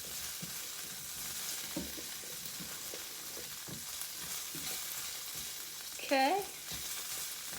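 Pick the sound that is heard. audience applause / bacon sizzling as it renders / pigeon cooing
bacon sizzling as it renders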